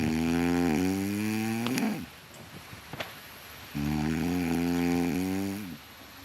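A man snores loudly in two long, rasping, rumbling breaths separated by a quieter pause, close and without talk.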